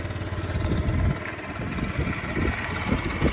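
A 2019 Yamaha Gear fuel-injected scooter engine idles with a soft, steady putter, fairly quiet and close, running without revving.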